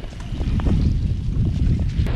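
Strong wind buffets the microphone during a muddy, rainy mountain bike ride at the Roc d'Ardenne, a continuous loud low roar with gusting swells and no talk.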